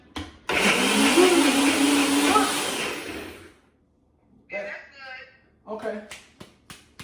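Kitchen blender running in one long, loud continuous whir lasting about three seconds, followed by a few short clicks and bumps as it stops, with people talking nearby.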